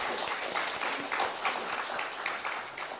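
A church congregation applauds during a Sunday worship service, steady broadband clapping from many hands filling the room at moderate distance throughout.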